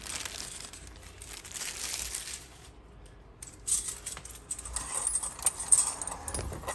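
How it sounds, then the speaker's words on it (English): Keys jangling and clinking as they are hung up indoors, a soft, scattered metallic rattle with light crinkling, fairly quiet and with no talk. "We're just going to hang the keys up."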